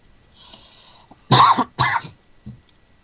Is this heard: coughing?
yes